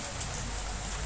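Steady rain falls in a dense, even hiss with no clear pauses, moderately loud and unbroken throughout.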